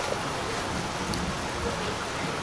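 Steady rain falls outdoors during a rainy-weather meal, a soft, even hiss that holds at a constant level throughout, with no talking.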